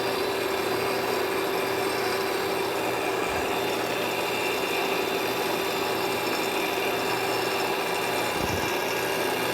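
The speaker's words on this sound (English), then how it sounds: "And now here's some grinding going on." A Landis horizontal surface grinder grinds a cylindrical part, producing a steady dense broadband rush with a constant tonal whine, continuous and close, with two brief low thumps along the way and no talking.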